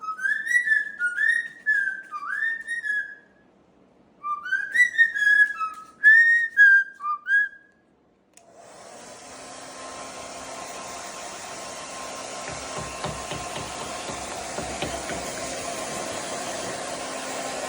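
A hair dryer starts after whistling, then blows a steady loud rushing stream of air for about nine seconds to clear dust.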